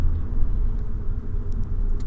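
A petrol Volkswagen Golf hums with a steady low engine rumble from inside the car on a test drive, with no talking.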